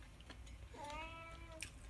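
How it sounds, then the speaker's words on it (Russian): A single drawn-out cat meow, fairly quiet, rising then falling over about a second against a faint background hum. "Видите, у нас кот голодный."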